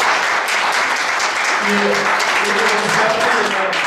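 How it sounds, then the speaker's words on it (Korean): A crowd of council members and farmers gives loud, sustained applause after a minister's lecture on rural life, a thick continuous roar of clapping with a few voices briefly calling out beneath it. "여러분 큰 박수 다시 한번 부탁드립니다"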